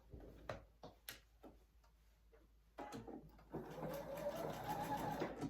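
Sewing machine back-stitching along the zipper of a fabric project bag, a few short bursts of rapid stitching with pauses and small handling clicks, then a longer steady run, close and quiet.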